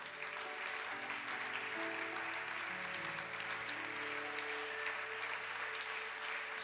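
A church congregation applauds steadily and evenly for several seconds, a dense continuous clapping with faint crowd murmur mixed in and a sustained tone underneath.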